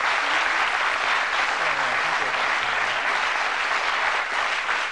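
Dense, loud applause from a game show studio audience, steady and continuous for several seconds.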